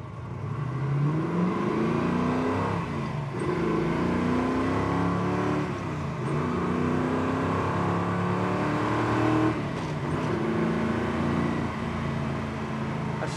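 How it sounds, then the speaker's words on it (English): A 1969 Chevrolet Camaro SS accelerates through its gears from the driver's seat. Engine pitch rises in repeated sweeps, dropping at each shift, over steady road and wind roar. "Running through some gears."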